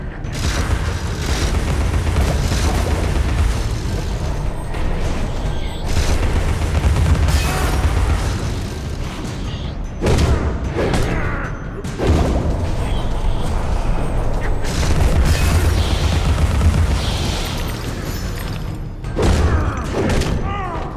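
Booming blasts and heavy thuds burst repeatedly in Alice Madness Returns as an enemy hurls bombs, loud explosions recurring throughout amid game effects and talking voices.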